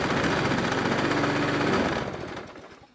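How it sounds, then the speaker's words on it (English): A Hayter lawn mower's small petrol engine runs steadily up close with a rapid, buzzing rhythm, then winds down and fades toward the end. "their lawnmower is back up and running"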